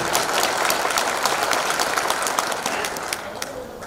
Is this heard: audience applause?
yes